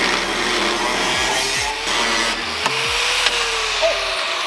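An angle grinder cuts through a brand new car hood during a front-end body kit install, giving a loud, continuous abrasive whine whose pitch sags and recovers as the disc loads into the metal.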